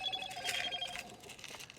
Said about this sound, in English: Dag-blasted phone while you're trying to fish.